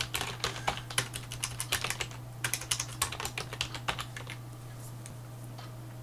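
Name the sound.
typing a file name on a computer keyboard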